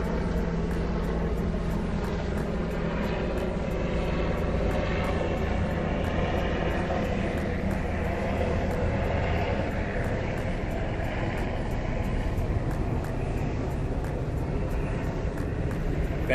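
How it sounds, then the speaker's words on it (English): A helicopter passes overhead as a steady, droning roar that holds at a constant level throughout while a person talks beneath it. "Thanks, helicopter."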